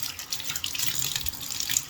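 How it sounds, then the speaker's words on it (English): Water running from a tap and draining down a freshly cleared bathroom sink drain, a steady close splashing hiss with gurgling, with no talk. "Now the water runs straight down"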